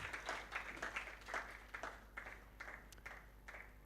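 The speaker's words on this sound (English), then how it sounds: "Let's clap our hands as our teachers are coming" An audience claps at an orientation event while teachers walk up, giving a steady, fairly faint patter of many hands with a few brighter individual claps and no voices over it.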